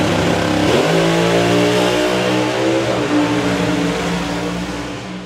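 A Pro Modified turbo doorslammer drag car makes its run with a loud, harmonic engine roar that rises in pitch through the gears, shifting sharply early on, then fades gradually as the car pulls away.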